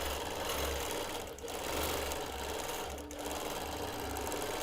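A long-arm quilting machine stitches small feather motifs across a pieced quilt, its steady close mechanical whir running continuously with two brief dips in speed.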